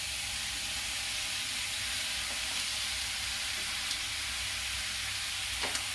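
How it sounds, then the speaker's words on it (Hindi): Potatoes fry in a pan while veg cutlets are being made. A dense, steady sizzle holds at an even level for the whole stretch, with no voices and only a few faint clicks. "इसे अच्छी तरह 2-3 मिनट भून लूंगी दोस्तों"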